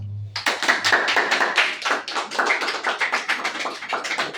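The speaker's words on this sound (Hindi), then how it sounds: "चलो ताली।" Students in a Class 11 organic chemistry class clap together in a steady, close burst of rapid hand claps that lasts several seconds with no talk over it.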